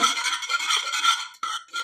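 Rasping, scraping strokes of a spoon working through thick cooked wheat in a pot, continuous with a brief break near the end.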